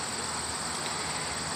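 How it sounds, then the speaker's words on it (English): Honeybees swarm busily at the entrance of a rescue hive, a steady dense buzzing hum heard close and continuous with no voices. "This is one of the rescue hives."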